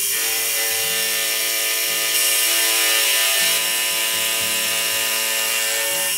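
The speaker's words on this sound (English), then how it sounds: "So this is classed as, or called, conventional milling." A milling cutter on a Sieg mill takes a conventional cut in metal, giving a steady, loud machining whine with a rhythmic low grinding pulse and mechanical ratcheting running throughout, with no talk over it.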